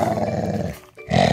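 A dog growls loudly and continuously while playing tug with a toy, a rough rumbling sound with a brief pause before it picks up again.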